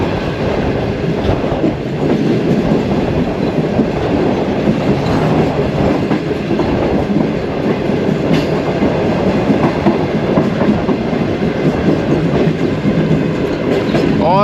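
Shalimar Express passenger train running on the rails in Pakistan between Karachi and Nawabshah, a loud continuous rumble with rhythmic clickety-clack of wheels heard from on board.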